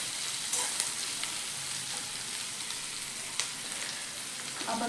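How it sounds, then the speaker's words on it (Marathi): Chopped onions sizzle steadily in a pan over high heat while a spatula stirs them, with occasional scrapes and taps over the continuous frying crackle. "असा मिक्स करत सगळा कांदा परतून घेऊयात"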